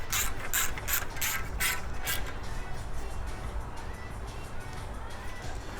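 A ratchet snugging bolts on a Kohler EFI engine gives a quick burst of sharp, close clicks over the first two seconds, with faint background noise afterward.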